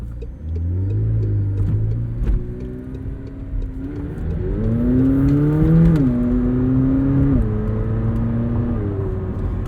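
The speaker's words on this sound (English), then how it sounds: "You just breathe on the throttle and you just get a bunch of acceleration" A 2021 McLaren 720S coupe with a twin-turbo, twin-scroll 4-liter V8 pulls hard under throttle, its engine note climbing in steady rising sweeps through gear changes, loud and close from inside the cabin with no one talking.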